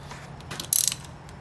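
Nuts on a 1963-1982 Corvette power steering control valve held in a vise are tightened with a wrench, giving a brief metallic ratcheting burst with a few faint clicks around it.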